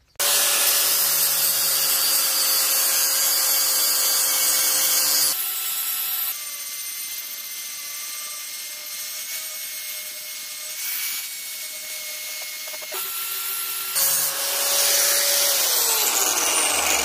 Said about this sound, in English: So I'm gonna do it with this angle grinder.